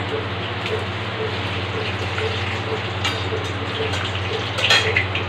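Dried red chillies fry in hot oil for a bharta, giving a steady low sizzle and crackle with a constant background hum.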